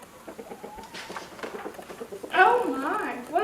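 A storyteller's voice imitates hens clucking during a farm tale, breaking from ordinary talk into a loud, warbling burst of clucks that runs to the end.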